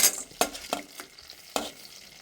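Cashews, pumpkin seeds, melon seeds and small coconut pieces frying in a pan for paneer butter masala, with a soft steady sizzle broken by a few sharp scraping stirs.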